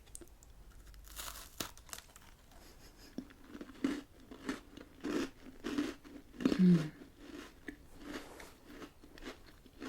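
Crisp crunching bites of a biscuit, several irregular crunches close to the mic, with chewing sounds between them.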